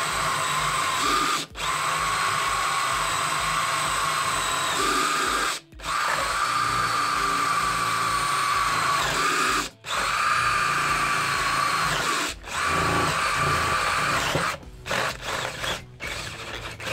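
Makita DDF482 cordless drill boring a hole, a loud steady motor whine with the gears grinding under load, running in long bursts broken by brief stops, close to the mic with no talk.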